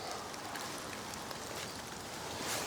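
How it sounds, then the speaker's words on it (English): Steady rain falls outdoors in a natural landscape, a dense continuous hiss of drops on surfaces that stays even throughout with no voices. "I'm not happy about doing this in this rain"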